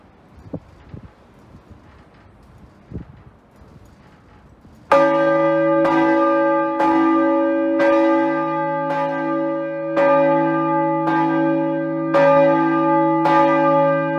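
The Saint Joseph church bell in the Gliwice cathedral, swung by a motor drive, strikes loudly and close about every 1.2 seconds, rich and ringing, after a quiet stretch with faint rustling.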